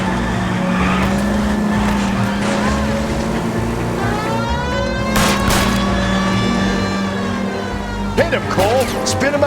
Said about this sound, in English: Hit him, Cole. Spin him out.